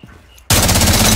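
A shotgun fires in Rainbow Six Siege, bursting in suddenly and very loud after a quiet moment, then booming on with dense, rapid blasts.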